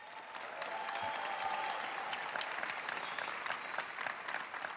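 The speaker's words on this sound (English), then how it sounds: "Give them a round of applause." An audience at a Canva Create event in LA breaks into applause, a steady wash of many hands clapping that swells quickly and holds for several seconds, heard from a slight distance.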